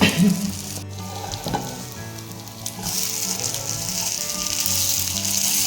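Vegetarian mock fish fry sizzling steadily in hot oil in a pan, a continuous close crackle that grows slightly louder toward the end, with occasional stirring or handling noises and no talking.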